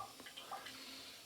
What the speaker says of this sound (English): So I'm having the water on.